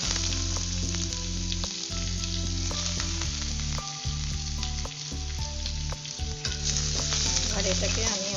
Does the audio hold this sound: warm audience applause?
no